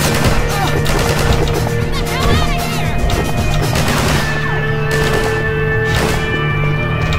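SMG gunfire in the video game Half-Life 2 during a fight with striders, dense loud rattling bursts and crashes over a constant droning game soundscape.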